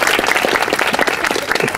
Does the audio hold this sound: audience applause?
yes